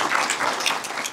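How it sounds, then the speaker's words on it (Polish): A brief burst of dense, rustling applause at a Civic Coalition press conference in Częstochowa backing a mayoral candidate: many hands clapping together, loud and continuous. "Łukasz, wielkie brawa."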